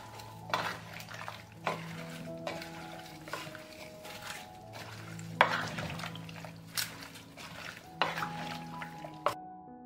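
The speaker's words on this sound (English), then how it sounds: "I will stir." Hunting salad simmering in a pot with salt, sugar, olive oil and vinegar, stirred with a utensil that scrapes and clinks against the pot in repeated strokes, with a soft cooking sizzle underneath.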